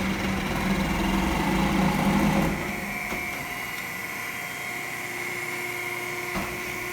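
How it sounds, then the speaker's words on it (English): A 30-ton Hauser 4-post hydraulic press on single stroke gives a loud, steady hydraulic drone for a couple of seconds, then drops to a quieter, even hum with a brief click near the end. "Here's a video of our 30-ton Hauser hydraulic press, machine number 4068, running on single stroke"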